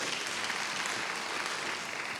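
A church congregation claps in a steady, even wash of applause that holds at a constant level from start to finish, no voices.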